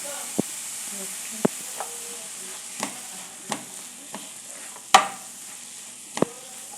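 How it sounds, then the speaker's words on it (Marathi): Mushrooms with onion, tomato and chilli fry in a pan for a Goan mushroom chilli fry, giving a steady, close sizzle broken by several sharp clicks of a spoon stirring against the pan. "मशरूम घालून मातशें भाजून घेता"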